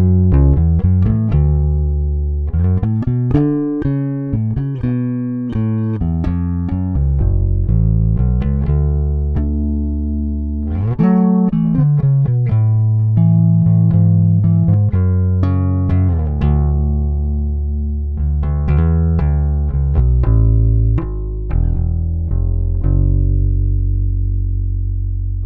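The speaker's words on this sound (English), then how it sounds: "the Tone Beast is also an excellent choice, I think, for this P-Bass" P-Bass electric bass played through a Tone Beast preamp in a studio recording, a continuous phrase of plucked notes with deep, rich harmonics, some notes ringing and others short, loud and without talk.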